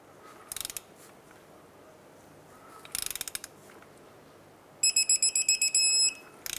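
Torque wrench tightening a castle nut on a 2003-09 Toyota 4Runner inner tie rod, giving short bursts of rapid ratcheting clicks, then a sharp run of metallic clicks as it reaches torque, close and alone.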